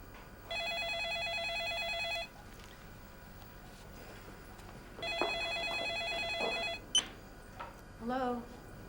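An indoor telephone rings twice in long electronic trilling bursts, each lasting about two seconds, with a quiet room tone between them, followed by a few brief voice sounds.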